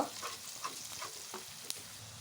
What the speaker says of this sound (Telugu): ఈ పసుపు అనేది ఆయిల్లో మంచిగా వేగిన తర్వాత